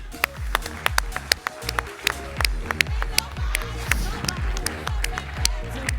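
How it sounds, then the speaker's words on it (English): Rapid, steady clapping from an audience, a dense run of sharp hand claps that keeps going for several seconds without pause. "Please give a huge round of applause and a warm welcome to Tammy Snyder Murphy."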